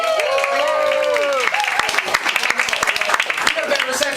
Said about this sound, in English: Give Carolyn a round of applause.